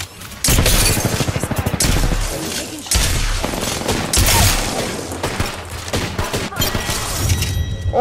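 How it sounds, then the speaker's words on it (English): Dense, loud automatic gunfire in Apex Legends, sustained bursts of rapid shots with booming impacts and brief gaps, filling the clip close up. "Opening fire."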